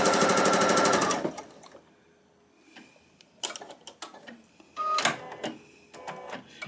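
A sewing machine stitches a quilt strip set at a quarter-inch seam, whirring in a fast, loud burst for about a second, then short stop-start runs of stitching and clicks follow with quieter pauses between.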